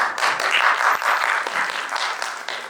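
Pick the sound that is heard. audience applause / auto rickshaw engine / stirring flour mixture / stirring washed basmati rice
audience applause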